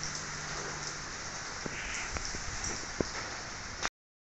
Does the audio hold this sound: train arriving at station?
no